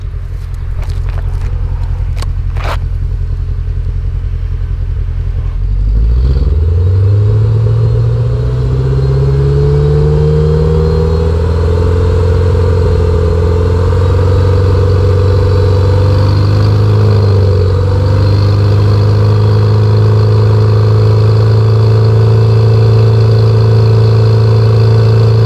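Mercedes W221 S500 engine being revved while its exhaust is measured. A few faint clicks lead into the engine rising from idle to a loud, sustained high rev held close by, with a brief dip partway.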